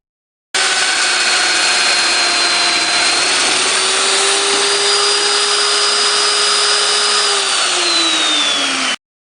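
A power drill runs steadily into a wooden guitar neck heel, sending out one loud, sustained whine that holds its pitch and then dips slightly near the end before stopping.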